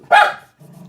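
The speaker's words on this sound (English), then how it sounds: "I don't know what you're barking at, but you're not going outside." One loud, close bark from a dog inside a house, a single sharp burst followed by a low, fading rumble.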